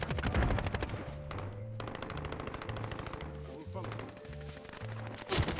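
Rapid automatic gunfire in a Call of Duty match, loud bursts of shots chattering in quick rhythm amid other in-game noise, with speech mixed in.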